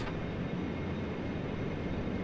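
Dash-8 Q400 twin turboprop engines in FSX spool up as the throttles are nudged forward: a steady, loud broadband drone with a low rumble, continuous and unbroken with no talking.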